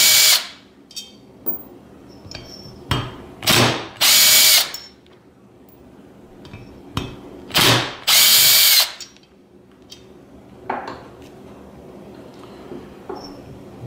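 A power drill fitted with a T27 bit runs in reverse to back out the crankcase screws on a Stihl MS170 chainsaw, in several short, loud whirring bursts with quiet gaps and small clicks between them.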